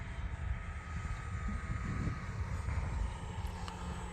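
An FMS Pitts barnstormer-style RC model airplane drones steadily at quarter to half throttle on a morning flight, a thin continuous engine whine with wind rumble, fairly distant and even in level.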